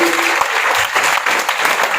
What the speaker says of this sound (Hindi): तो सबसे पहले मैं चाहूंगा कि एक बार जोरदार तालियां हो जाए